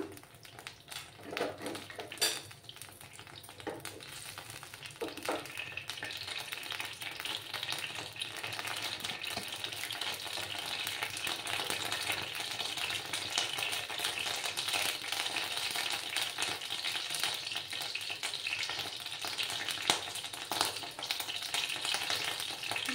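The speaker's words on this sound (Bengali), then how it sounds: "এবার আমি কড়াতে আর একটু তেল দেব। কড়াতে তেল দিলাম।" Oil frying hot in a kadai while a bean dish is being cooked, a steady close sizzle that lasts throughout, with occasional light clinks and rattles from the pan.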